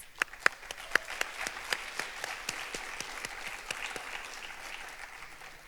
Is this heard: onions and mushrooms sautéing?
no